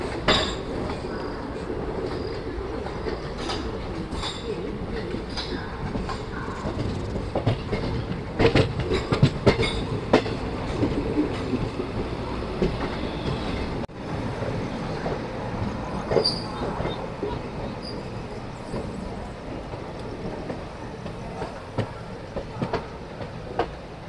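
A passenger train pulls out of Manmad station, its wheels clattering over rail joints with metallic clinks and squeals, rising and falling near and loud for a long stretch, with some faint voices underneath.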